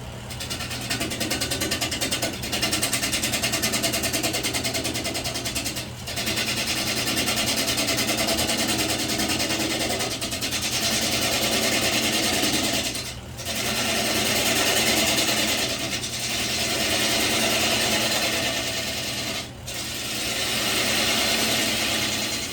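A wood lathe turns an end-grain cedar bowl, a half-inch gouge cutting across the grain in a steady, loud, continuous whir with a constant motor hum and a few brief dips where the tool lifts off.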